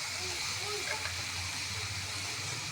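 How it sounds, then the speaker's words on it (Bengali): Radish pieces fry in hot oil seasoned with nigella seeds, a continuous close hissing sizzle at an even level throughout, with a faint voice murmuring beneath it. "এবার মূলোগুলো আগে ভেজে নেব।"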